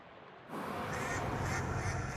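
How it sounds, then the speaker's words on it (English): A haunting quack attack from the video game Shadows Over Loathing, a dense, steady burst of noisy, quacking game audio that starts abruptly after a brief silence and holds at an even level to the end. "Haunting Quack."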